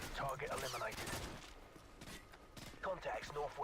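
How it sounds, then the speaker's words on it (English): Bursts of automatic gunfire from the Call of Duty 4: Modern Warfare video game crackle in the distance, with someone talking over the shots and rapid volleys returning near the end. "who the fuck is shooting at me?"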